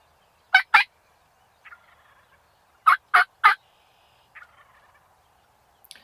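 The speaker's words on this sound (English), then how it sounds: "The gobbling you can hear outside the frame is actually the big tom" A wild turkey tom gobbles in short bursts: a pair of loud gobbles, then a quick triple, with faint softer calls between, fairly close in quiet surroundings.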